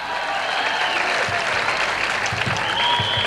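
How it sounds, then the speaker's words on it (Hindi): A crowd at a college engineering event claps loudly for a performer dressed as Lord Bholenath, a continuous dense burst of applause with a few cheers mixed in, filling the whole short stretch. "भगवान भोलेनाथ जी के लिए जोरदार तालियां हो जाए दोस्तों"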